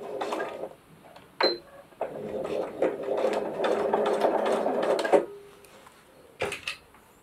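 A sewing machine stitches a fabric project case in short runs of steady mechanical whirring, close by, separated by brief pauses and a few sharp clicks and knocks.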